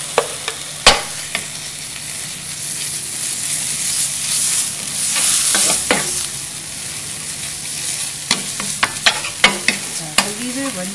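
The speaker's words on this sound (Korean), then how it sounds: "고기를 먼저 볶아주신 다음에" Meat stir-frying in a pan for bibimbap, a steady sizzle up close broken by sharp clacks and scrapes of a utensil stirring and tossing.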